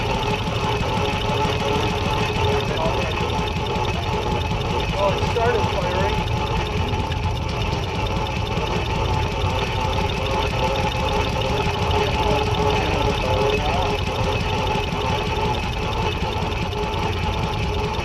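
An engine fires and settles into a steady, continuous idle, a close, even running sound that holds level throughout with voices faintly mixed in.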